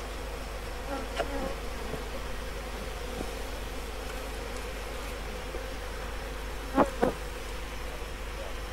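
Honeybees being blown out of honey-filled hive boxes with a leaf blower, a dense continuous buzz of many bees under a low steady rush, with a couple of brief louder bumps.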